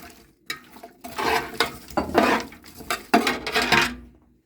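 Tomatoes drop with a series of wet knocks and clatters into a pot of Auvergne-style bean stew, close and fairly loud, stirred against the metal pot with no talk.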